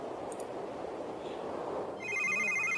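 A mobile phone in The Sims 3 begins ringing partway through, a bright electronic ringtone with a warbling melody that cuts in clearly over quiet game ambience.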